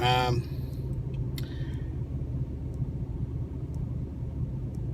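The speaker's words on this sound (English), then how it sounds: "Excuse the noise, let's leave my car running." A car engine idles steadily as a low constant rumble on a cool day, close by and continuous, with a few faint higher clicks over it.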